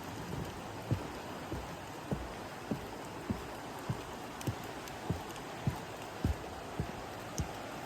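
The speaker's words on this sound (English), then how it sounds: "All there is the sound of my footsteps, the rain, the water, the birds." Rain falls at Cenarth Falls in Wales over a constant wash of rushing water, broken by regular soft thuds about every half second, like footsteps on a wet path, with no talking.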